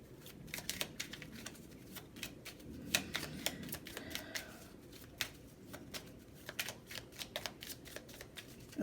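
Tarot cards being shuffled up close, a steady run of crisp riffling flicks and soft slaps with brief pauses, fairly quiet and with no voices.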